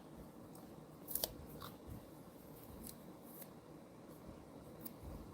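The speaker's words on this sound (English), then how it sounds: "let me get my scissors." Faint, quiet snips of scissors cutting ribbon, a few short cuts spread out over a soft steady background hiss.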